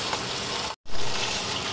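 Fish belly from a large fish pan-frying in a wok, searing for congee: a steady, loud, dense sizzle that cuts out briefly midway and then resumes just as strongly.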